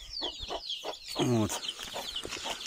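Chicks from Nizhny Novgorod in a village poultry setup chirp and peep in quick high bursts, with a louder clucking call in the middle, while a person says a brief word.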